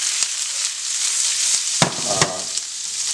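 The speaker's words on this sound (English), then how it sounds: "I got a pan here heating with some oil" Oil heating in a frying pan on a home stove gives a steady, even sizzle and hiss, with a few sharp clicks and light knocks of cookware over it.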